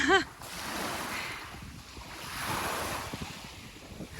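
Small waves washing onto a little beach at the edge of a lake, a steady broadband wash with soft swells and wind noise across the microphone, no talking.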